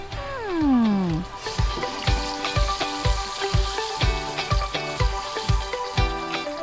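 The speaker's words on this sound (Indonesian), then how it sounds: "Setelah itu, goreng." Flour-battered slices of bodogol are deep-fried in hot oil, crackling and sizzling steadily up close, with a regular knocking beat and music playing over the bubbling.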